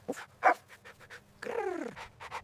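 A human voice imitates a dog barking, giving a few short, separate "woof" and "arf" calls followed by a longer growling sound, all close and fairly loud over silence.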